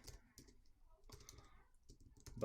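Computer keyboard being typed on to enter a headline, soft quick key clicks in short bursts with brief pauses, close and quiet.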